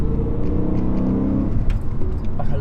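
Stock V8 engine of a BMW E92 M3 revving with a steady, loud throaty drone that settles slightly lower partway through, heard close and alone.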